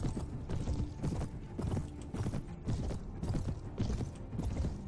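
Rapid, overlapping hoofbeats thunder continuously, like several horses galloping together in a busy battle, with no talking, from the Prophesy of Pendor mod for the video game Mount & Blade: Warband.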